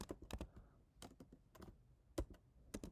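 Computer keyboard keys tapped in quick bursts of clicks, close and fairly quiet, with short pauses between groups of keystrokes while a chart title is entered.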